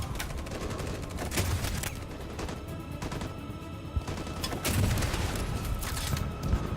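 Sustained gunfire in a Detroit: Become Human battle, dense bursts of shots and crashing impacts running continuously and loud throughout, with no speech over it.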